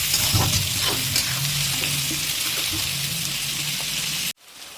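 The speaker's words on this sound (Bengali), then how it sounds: "এখানে আমাদের 5 মিনিট হলো পেঁয়াজটা কিন্তু ভাজা চলছে" Onions sizzle steadily in a hot pan over a high gas flame, a continuous crackling fry that cuts off abruptly near the end.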